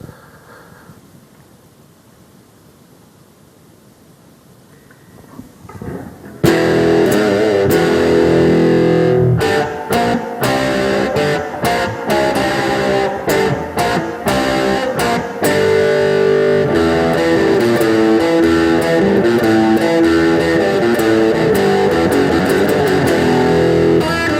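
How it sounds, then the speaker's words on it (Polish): An electric guitar played with overdrive distortion through a small Vox amplifier, quiet at first, then loud crunchy chords and riffs ringing continuously for about eighteen seconds without talking. "zademonstruję Państwu przester, który jest tutaj już w tym akurat małym wzmacniaczu Vox"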